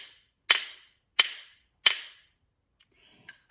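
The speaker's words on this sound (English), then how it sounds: "maybe you have some rhythm sticks that sound like this." Rhythm sticks tap together three times in an even beat, each crisp wooden click sharp and close, followed by a couple of faint small knocks.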